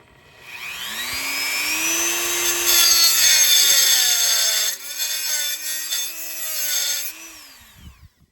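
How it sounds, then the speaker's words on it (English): A Dremel tool fitted with a cutting wheel grinds a small timing mark into the back side of a VW Beetle pulley, a loud, steady high-pitched whine with a rising then falling pitch as it loads and eases off, running about seven seconds. "take a Dremel tool with a cutting wheel on it, and we're going to actually make a small cut into this back side of the pulley"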